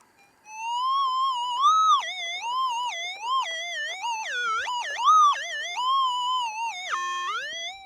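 A metal detector over bedrock while prospecting for gold sends out a steady, warbling electronic tone that rises and falls in pitch, loud and alone.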